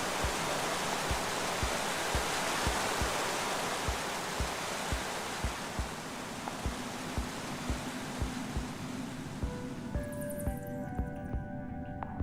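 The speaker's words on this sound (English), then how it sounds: "I first met Ruben near a waterfall like this." Steady rushing water of a waterfall in the video game Minecraft: Story Mode, a loud broadband roar with a soft rhythmic pulsing beneath, joined near the end by a few faint tonal game sounds.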